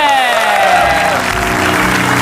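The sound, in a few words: studio audience applause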